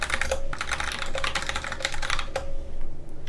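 Typing on a computer keyboard while entering product option sizes into an online store listing, a quick irregular run of close, soft key clicks with brief pauses, quiet and alone.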